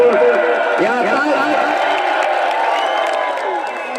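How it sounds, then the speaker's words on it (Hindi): Spectators at a volleyball final clap and cheer in a loud, continuous crowd roar, with a voice speaking over the noise the whole time. "तालियां बजाते रहे दर्शक ताकि मजा आता रहा"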